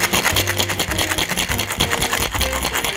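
Lemon cherry soju being shaken with ice, a rhythmic rattling swish of cubes knocking back and forth in a container, repeated strokes close to the ear with no voice.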